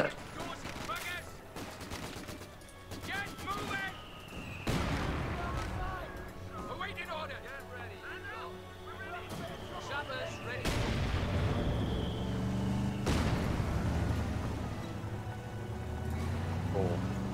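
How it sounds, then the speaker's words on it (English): Mortar and artillery rounds land in a Company of Heroes 2 4v4 battle: several heavy booming blasts arrive at irregular intervals over a constant rumble of distant gunfire. "Watch out, one mortar."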